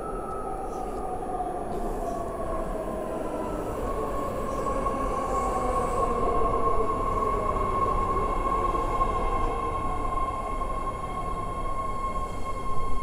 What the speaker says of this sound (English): here comes the 10-car, 3-door San Francisco Airport Millbrae train